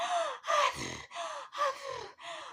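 Out-of-breath panting, made as a voice acting out breathlessness: a series of about five quick, heavy gasping breaths in a steady in-and-out rhythm, close and fairly loud, with no other sounds.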